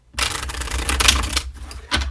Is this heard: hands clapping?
no